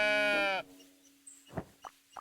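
A sheep in Tiny Glade gives a loud, drawn-out bleat, then a few short, fainter bleats and clicks follow over a soft steady hum.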